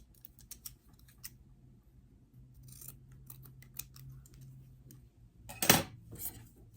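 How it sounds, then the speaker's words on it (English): Scissors snipping loose quilt threads, a few quiet cuts scattered through a soft room hum, then one louder, sharper snip near the end. "I'm going to trim the threads"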